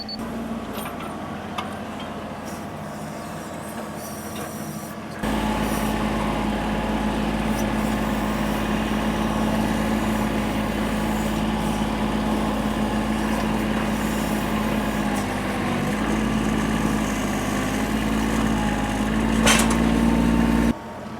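A tractor engine idles quietly, then roars up to a loud, steady drone that runs on unbroken before cutting off at the end, while digging out buried concrete.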